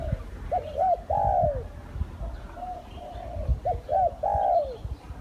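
A decoy dove coos in two repeated phrases, a few short notes rising into a longer drawn-out coo, close and clear over low background rumble.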